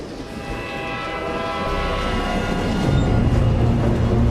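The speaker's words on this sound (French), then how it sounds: "avec l'arrivée du train de fret Chine-Europe, que cette idée est enfin devenue réalité" A China-Europe freight train rolls past in a continuous loud rumble that swells and deepens toward the end, with a sustained tonal horn layer riding over the roar.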